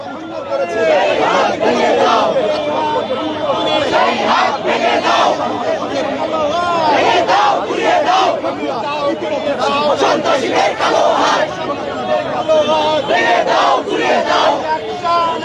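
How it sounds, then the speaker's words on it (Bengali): Protesting students in a street demonstration chanting slogans together, a loud, dense crowd of voices rising and falling in rhythmic bursts, with shouting and chatter mixed in throughout. "তারা কিন্তু সবাই প্রতিবাদী স্লোগান দিচ্ছেন"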